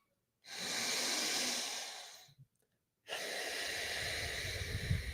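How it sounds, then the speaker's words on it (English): Deep breathing during a morning breathwork exercise: one long, loud, airy breath lasting nearly two seconds, a short pause with a small catch, then another long breath, close and alone. "making these our deepest breaths yet"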